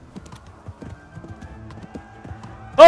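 Soft hoof clip-clops and background sounds from the video game Kingdom Come: Deliverance, ending with a sudden loud horse whinny.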